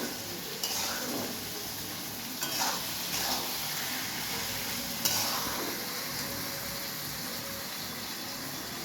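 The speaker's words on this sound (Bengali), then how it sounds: "আর একটু ভালো করে ভাজা ভাজা করে নিতে হবে" Tomatoes frying in a pan for egg curry: a steady loud sizzle hisses throughout, broken by a few scraping stirs and clinks of a spatula against the pan, with no voices.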